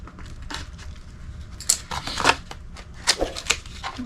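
Cutting through the end of braided tubing fitted with 1/4-inch barb fittings and hose clamps, a few sharp snipping and crunching bursts scattered over a quiet workshop background, close and fairly crisp.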